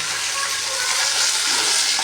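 Onions frying in a pan after curry leaves, a steady dense sizzle filling the whole stretch with no pauses, close and fairly loud.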